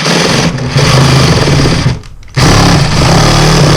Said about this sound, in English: I don't need a sawzall to cut drywall, but it's easier.